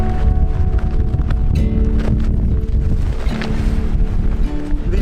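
Strong wind buffets the microphone on a mountain hike in Assynt, a loud continuous roar with gusting surges throughout.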